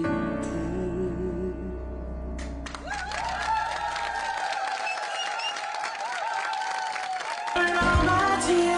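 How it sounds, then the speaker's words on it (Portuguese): A studio audience on a Portuguese TV afternoon show applauds the singers, with a burst of clapping at the start that gives way to music. "E um aplauso para os nossos cantores."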